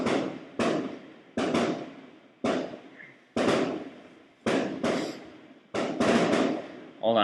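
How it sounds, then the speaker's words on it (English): Fireworks explode in a rapid series of about nine loud, sharp bursts, each dying away into a crackling tail before the next one cracks out, with no talking. "hold on, just let the fireworks finish."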